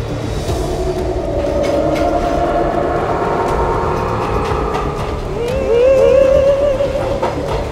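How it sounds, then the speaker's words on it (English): An amusement park ride train at Kirby Farm runs with a steady rumbling roll and screeching, whining wheel tones that rise toward the end, loud and close. "we're gonna take a ride on scary train"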